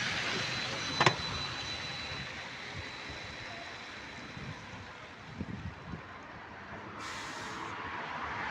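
An electric bus on route 47 rolls along with a steady, smooth running hum and road rumble, broken by a sharp knock near the start and a brief rise in high hiss toward the end.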